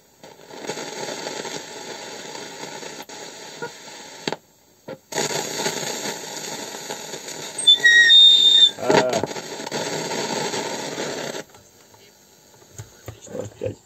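An Agidel-302S cassette deck, a Soviet unit from 1990, plays back a microphone recording, giving a quiet hissy stretch that cuts out briefly and returns at a steady level before fading near the end.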